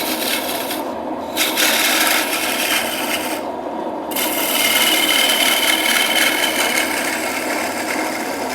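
A lathe tool's bevel cuts a wooden spinning top, giving a steady, close rasping scrape that runs continuously, with short dips where the tool lifts off before biting again.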